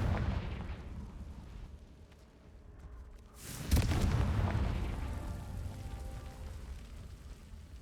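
Confringo fire spell blasting in Hogwarts Legacy, a sudden loud explosive boom with a rumbling tail over a dull game ambience, alone without talk.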